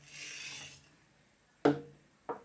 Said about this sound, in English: This takes all of the guesswork out of sharpening your chisels.